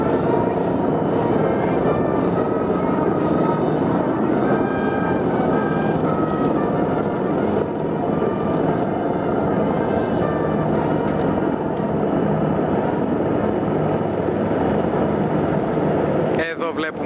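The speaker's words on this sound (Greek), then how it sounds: "Εδώ βλέπουμε τα ελικόπτερα τύπου Apache" Heavy rotor noise from Apache military helicopters at a military parade fills the air, a loud continuous thudding roar that passes overhead, with voices faintly mixed in.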